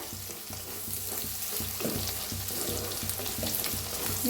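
Onion and tomato fry in a pan for an eggplant dish, giving a low, steady sizzle with regular faint scraping from stirring and a slight rise in level toward the end.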